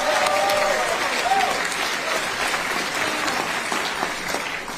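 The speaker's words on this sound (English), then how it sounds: "Give Liam a round of applause" Audience giving a round of applause for Liam: a thick, continuous wash of many hands clapping at once, full and steady from start to finish and easing slightly near the end.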